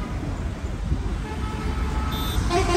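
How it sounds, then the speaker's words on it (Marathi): Stalled weekend traffic jam on the Mumbai Pune Expressway, a low rumble of idling engines and road noise with a short car horn toot near the end. "तर बघा किती ट्रॅफिक आहे"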